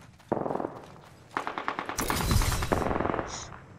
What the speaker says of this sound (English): They are firing by each other.